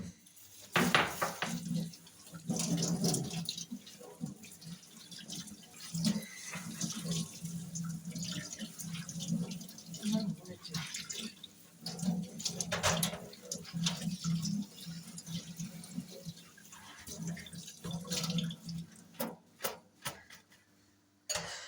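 Water runs from a kitchen tap as dishes, pots and cutlery are washed in a sink, with a steady splashing flow broken by frequent close clinks and knocks of dishware. No one speaks.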